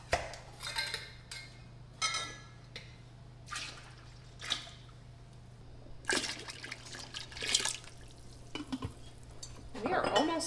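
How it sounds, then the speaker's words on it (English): Home canned chicken broth is poured into roasted tomato soup in a pot, with repeated splashing and dripping bursts of liquid and a final gurgling pour, all fairly close. "It's time to add our chicken broth to our soup."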